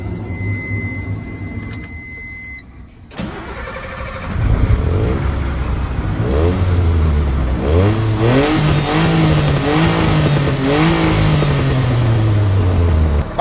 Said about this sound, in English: clutch in, our brakes are set, and we'll start the truck